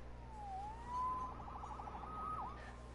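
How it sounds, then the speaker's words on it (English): A police siren in the Spider-Man video game wails through a few rising and falling sweeps, faint and somewhat distant over a low steady hum, with no talking. "Saved by the siren."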